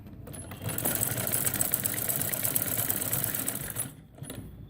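A sewing machine stitches the neckline of a boat-neck garment, running in one steady, rapid whir for about four seconds before slowing and stopping, heard up close without talk.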